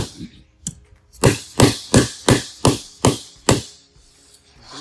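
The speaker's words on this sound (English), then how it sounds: "you need a pretty firm surface to hammer these on" Cabinet parts for an upper cabinet are hammered together on a somewhat bouncy work surface. Seven steady, evenly spaced hammer blows land close and loud after a couple of lighter taps, with no talk.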